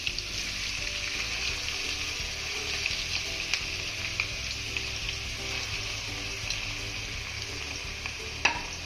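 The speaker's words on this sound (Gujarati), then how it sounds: "ઓનિયન નાખીશું" Chopped onions sizzle steadily in hot oil over low gas while being stirred for fried rice, with occasional scrapes and clicks of the spoon against the pan; no talking.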